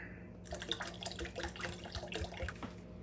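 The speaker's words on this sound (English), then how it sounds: "I'm going to go ahead and add another cup of vinegar." A cup of vinegar poured into a pepper mash for homemade hot sauce makes a close, continuous splashing, gurgling pour lasting a few seconds.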